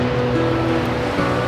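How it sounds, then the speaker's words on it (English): Ocean surf crashing against the cliffs along the Ballycotton cliff walk, a steady, loud, continuous wash of breaking waves with no voices over it. "listening to that crashing ocean there is very soothing and very relaxing"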